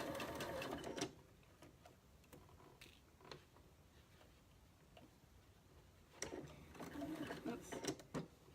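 A home sewing machine stitches a short back stitch on a patchwork pin cushion, running in bursts of rapid ticking needle strokes with pauses between, close by, with faint bits of talk.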